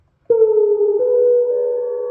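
Sustained tones from a Moog Grandmother synthesizer played through its spring reverb tank, a steady layered drone that steps in pitch partway through and holds loud and clean with no voices.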